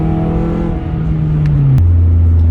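A Scion tC pulls hard under acceleration, its engine drone rising steadily in pitch with a near, loud, continuous tone inside the cabin and a brief shift-like drop near the end.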